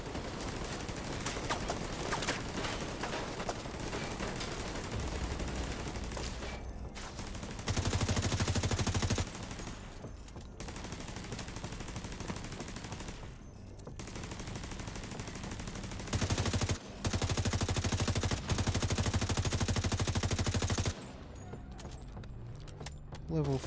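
Sustained bursts of rifle fire from a level 30 police M4 in The Division 2, loud and dense, pulsing in repeated volleys over busy combat noise throughout.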